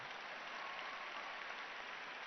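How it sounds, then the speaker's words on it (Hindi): Sustained applause from an audience after a children's yoga performance at an Indian education event, a dense steady wash of clapping with no talk. "एक बार इनके लिए जोरदार ताली बजाओ।"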